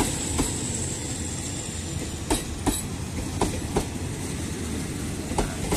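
A train pulls into Chumphon station in Thailand, a steady rumbling roll with repeated clickety-clack wheel knocks on the rail joints, close and continuous, with no voices.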